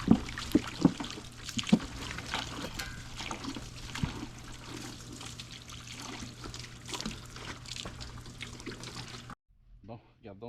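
Water is poured over a sugar maple log to rinse it, making a steady close trickle and splash that runs for several seconds. A voice talks in the background, then the sound stops abruptly.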